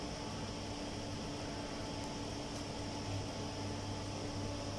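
An automatic washer disinfector cleaning surgical instruments in a hospital sterile services department, a steady even mechanical hum and whir with a faint hiss, constant and unchanging, with no voices.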